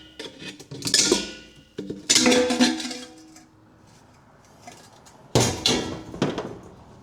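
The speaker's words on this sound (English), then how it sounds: "we're going to have to pop this hubcap off and steal a few lug nuts off this wheel" Sharp metallic clanks and scrapes come up close as a hubcap is pried off a 1963 Mercury wheel. There are three separate bursts of metal clatter with quieter pauses between them.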